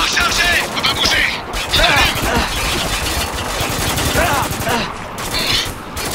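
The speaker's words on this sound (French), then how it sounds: "Là, ça canarde de partout," Heavy gunfire in the video game Spec Ops The Line, dense rapid automatic shots and booms crackling continuously from several directions, with a voice talking over the barrage.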